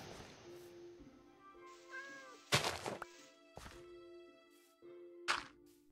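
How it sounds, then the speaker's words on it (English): A Minecraft cat trapped in an enclosure meows several times in short, clear, moderately close calls, with a few sharp knocks and thuds from game activity in between. "Kitty! You're trapped in here, aren't you?"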